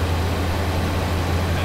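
A car engine runs steadily with its alternator charging, giving a constant low hum and drone close by, with no voices.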